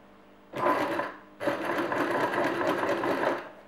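A sewing machine stitches fabric for a tunic facing, running in two close, loud bursts of steady mechanical whirring and rapid needle clatter separated by a short stop.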